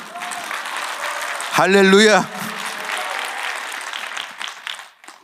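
A church congregation at a Korean revival service applauds in a steady wash, with a preacher's voice over it and a loud, sung or shouted exclamation rising briefly in the middle.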